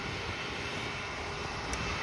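Distant fixed-wing airplane arriving at an airfield, its engine a faint, even, continuous drone with no voices.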